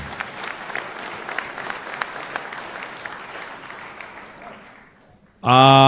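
An audience at a Strong and Free conference in Sylvan Lake claps steadily, a dense round of applause that gradually fades, then cuts to a loud tonal sound at the very end.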